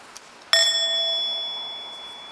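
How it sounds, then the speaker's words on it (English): A single soft strike on a mindfulness bell, a bowl-shaped bell given a half sound, gives a gentle ring that hangs and slowly fades over two seconds, close and alone. "you are qualified to invite the bell to sound"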